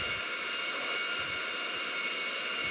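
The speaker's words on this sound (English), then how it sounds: "Cool little plane to have when you're flying around is a private jet" A private jet engine in the GTA V video game gives off a steady, loud, continuous roaring whine with a constant high hiss and no variation in rhythm.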